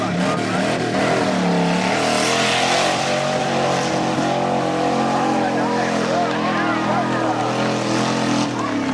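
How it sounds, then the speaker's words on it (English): A mud bog truck with a 401 AMC V8 engine makes its run at a 1995 Plymouth mud bog event, its engine roaring loud and steady for the whole nine seconds against a busy outdoor background. "Running a 401 AMC V8. That was a real nice run."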